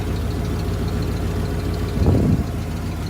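A 1994 Ford F-150 XLT engine idles with a steady, close, low grumbling rumble and faint tapping, swelling briefly once partway through, with no talking.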